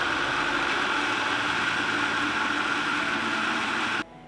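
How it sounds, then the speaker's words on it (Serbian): A blender grinds boiled pears into a purée with a steady, loud whirring drone that runs evenly for about four seconds and then cuts off abruptly. "Poklopit ću blender i samleti kruške."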